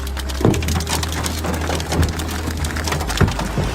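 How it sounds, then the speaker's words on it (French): Hail smashes through a window: sharp cracking and crunching impacts land over a dense, steady clatter of heavy hail pounding a surface, with several louder hits standing out. "Ici, la grêle transperce la fenêtre."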